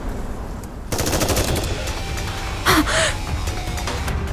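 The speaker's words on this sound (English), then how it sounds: "Gunfire!" Gunfire in the game Goddess of Victory: NIKKE breaks out as rapid bursts of automatic shots over a steady background drone, followed by a brief gasp-like vocal sound.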